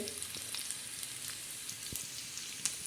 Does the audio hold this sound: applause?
no